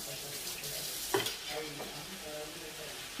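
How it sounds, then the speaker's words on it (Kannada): Tomatoes frying soft in a pan, a quiet, steady sizzle with a few soft stirring clicks and scrapes. "ಟೊಮೆಟೊ ಚೆನ್ನಾಗಿ ಸಾಫ್ಟ್ ಆಗುವವರೆಗೂ ನಾವು ಫ್ರೈ ಮಾಡೋಣ"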